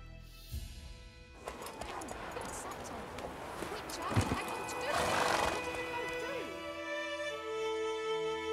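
Roach the horse neighs and whinnies in The Witcher 3, with hooves clip-clopping and game music playing under a man's speech; a louder whinny rises midway.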